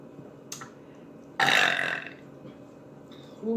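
A loud, drawn-out burp after a soul food meal bursts out close to the mic, trailing off over about half a second, with a faint short belch before it and quiet room tone around.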